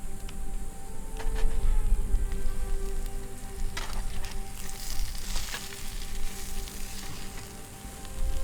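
Food sizzles and fries in a cast iron pan set over a campfire at a solo campsite, a steady close crackle with scattered pops and small bursts throughout.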